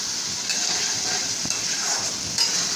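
Tomato fish curry sautéing in a pan, a steady close sizzle with faint stirring scrapes and occasional clinks, no talk.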